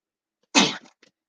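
A single loud, close sneeze bursts out abruptly, followed by a brief trailing breath and a faint small noise, with no talking around it.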